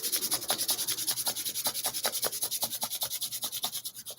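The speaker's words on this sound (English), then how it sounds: "Rub your hands together." Two palms rub briskly together in a fast, even back-and-forth rhythm, a dry swishing friction heard close up, steady for several seconds with no voice over it.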